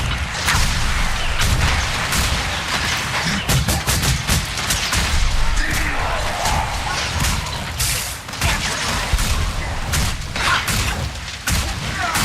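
Engineer's deployed turret firing rapidly in the video game Guild Wars 2, a dense, continuous barrage of sharp shots and booms amid chaotic battle noise, loud throughout with overlapping impacts.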